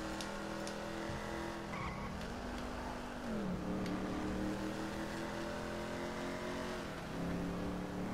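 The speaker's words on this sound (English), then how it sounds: "So Jake pulls up beside of this car" Car in a video game engine droning steadily as it drives, with repeated tire skids and squeals sliding in pitch, loud and continuous, no talk.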